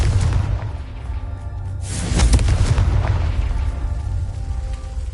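A Confringo blast spell explodes in the video game Hogwarts Legacy, a loud boom that swells around the middle and lingers with a rumbling tail over low background sound.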